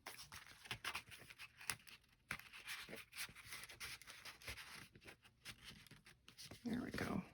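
Scissors or a trimmer cutting a piece of paper for a mini ephemera booklet, with close scratchy snips and rustling paper handling throughout and a brief voice near the end.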